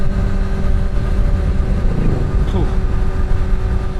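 A Kawasaki ZX-6R supersport motorcycle engine runs loud and close at high revs near 10,000 RPM, a dense continuous buzzing roar with a slight waver partway through.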